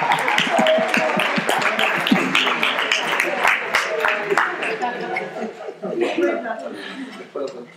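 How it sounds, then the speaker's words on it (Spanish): Audience clapping and chuckling at a talk, dense crackling applause mixed with laughter and voices, fading somewhat toward the end. "por favor, levántate un aplauso"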